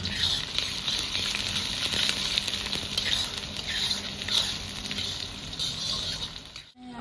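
Chopped onions hit hot oil already holding cloves, cardamom, cinnamon, cumin and dried chillies, setting off a steady, close hiss of frying that carries on with no one speaking.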